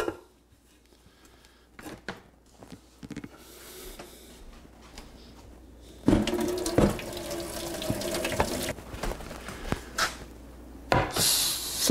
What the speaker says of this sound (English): Put it on and go over to the sink and drain the water off.